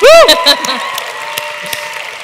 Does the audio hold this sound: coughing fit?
no